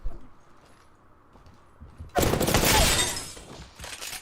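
Gunfire from a video game replay: a faint soft pop near the start, then a loud, sharp burst of shots followed by a long, noisy rumbling decay that fades out over a couple of seconds.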